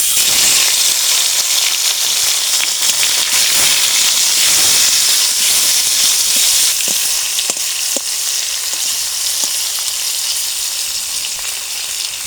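Fish sizzle loudly in hot mustard oil in a kadai, a dense continuous frying hiss with occasional sharp spits and crackles.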